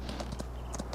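Horse hooves clop in an even, quick rhythm from a mount in a video game, steady over a low background hum, without any talk.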